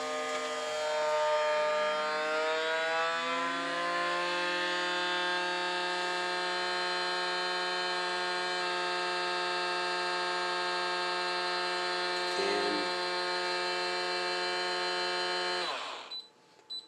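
A steady, loud motorized hum from a Gasbye two-pump vacuum sealer sealing bread, rising in pitch at the start, droning evenly for about fifteen seconds before cutting off abruptly.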